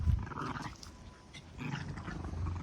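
Puppies fight and growl in a garden, low rumbling growls and snarls rising and falling in bursts, fairly close but quiet, with no talking.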